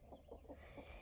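Chickens being fed crawfish give soft, rhythmic clucks, very faint and distant in a brief burst, with no talk.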